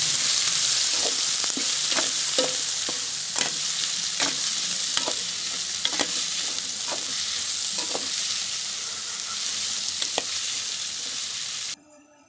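Chopped tomatoes fry and sizzle in a pan while a spoon stirs them, with a steady close sizzle broken by a dozen or so regular scraping strokes before it cuts off abruptly.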